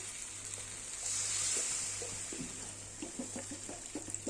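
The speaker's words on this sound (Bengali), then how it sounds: "এবার দিয়ে দেবো পরিমাণ মতো জল।" Water poured into a sizzling, well-fried masala for a rohu fish curry with potato and brinjal, a soft hiss and watery rush rising in the middle, then bubbling and stirring taps, close and fairly quiet.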